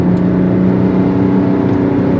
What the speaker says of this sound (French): On va essayer une petite accélération en mode confort pour voir le moteur.